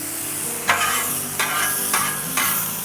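Smashburger patties sizzle loudly on a Blackstone griddle, a constant close frying hiss broken by four evenly spaced metal spatula scrapes.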